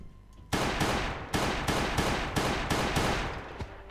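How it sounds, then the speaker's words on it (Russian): Gunshots fired at a zombie in the survival video game Last Day On Earth, a sequence of about six loud, sharp blasts at a roughly even pace, each decaying quickly, with no talk. "Зомбишка там, 5 выстрелов."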